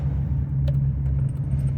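A 2002 Dodge RAM 1500 pickup rumbles steadily while driving, a low continuous engine drone heard from inside the cab, with a faint click and light rattles on top.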